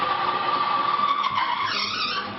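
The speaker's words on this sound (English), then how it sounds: "You can see that when two metals in motion made contact, grinding occurs" A friction test machine grinds metal against metal to simulate engine wear, giving a loud, continuous screeching squeal with a steady high tone that shifts and wavers toward the end.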